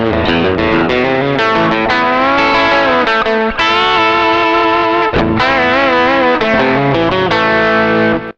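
An electric guitar runs through a Tech 21 Richie Kotzen RK5 v2 Signature Fly Rig with the compressor engaged, playing loud, sustained, evenly leveled distorted chords and bends with a short break midway and no talking.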